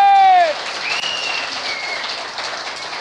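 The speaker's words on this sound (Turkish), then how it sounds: "alkışların en güzeli Haydar Ulaş için gelsin" Applause for Haydar Ulaş from a crowd at a community association show, steady dense clapping following a brief sustained tone at the start, moderately loud, with a voice heard over it.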